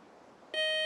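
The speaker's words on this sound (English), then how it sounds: "that buzzer means the end of our first toss-up round" A quiz show buzzer ends a toss-up round. It cuts in abruptly about halfway through as a single loud, sustained electronic tone over a faint, quiet background, with no talk.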